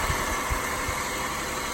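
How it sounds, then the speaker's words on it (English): The V6 engine of a 2019 Jeep Grand Cherokee Limited idles with a steady, even low hum, heard close up and with no talking. "Right here, this is the beautiful V6 right here."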